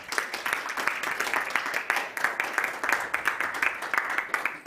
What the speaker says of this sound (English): let's give a round of applause to our fantastic speakers here.